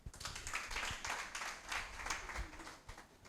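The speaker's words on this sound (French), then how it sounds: "Je vous prie d'applaudir." A small audience claps for a newly introduced Toastmasters poet and speaker at a French coaching-contest finale, a brief spatter of hand claps that stays fairly quiet and thins out toward the end.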